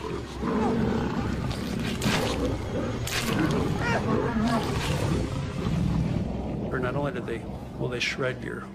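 A lion fighting gives deep, rough roars and growls in repeated bursts, heard beneath a continuous narrating voice along with dense wild-animal noise.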